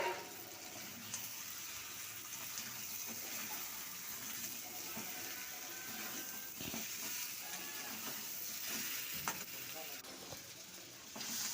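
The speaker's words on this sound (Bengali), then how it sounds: "এবারে ডিমগুলো দিয়ে দিচ্ছি ডিমগুলো দিয়ে আবার পাঁচ মিনিট কষিয়ে নেব" Eggs sizzle and are stirred in a pan with spices for an egg curry, a steady close frying hiss running throughout with occasional scraping stirs, no talk.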